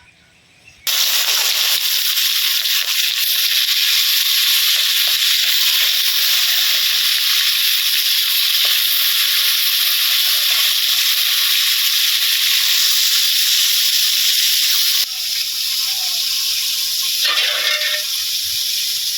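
Hot oil sizzling in a pan, a loud, steady bright hiss that starts abruptly and carries on nearly unbroken, easing slightly near the end with faint background noise.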